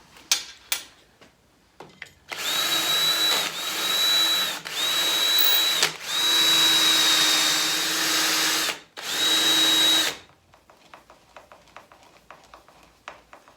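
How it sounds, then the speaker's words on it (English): A power drill drills holes for countersinking while building a circular blade sharpener, whining in several separate bursts of a few seconds each, close and loud, with quiet clicks and handling sounds between. "Drill those out and then countersink them."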